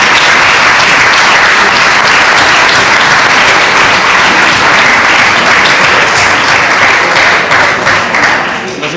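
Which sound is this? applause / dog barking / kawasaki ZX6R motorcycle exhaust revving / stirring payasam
applause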